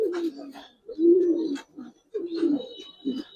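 Black laced pigeons coo in a few low, throaty bursts, close and fairly loud, with short pauses between them and a faint chirp above.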